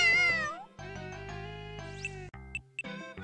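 A creature in the Sega Saturn game Tenchi Muyou meows in short, clear, high cries over game music and chiming effects, fairly soft overall.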